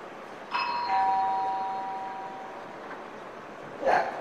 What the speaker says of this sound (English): it's a doorbell and Toby already recognized that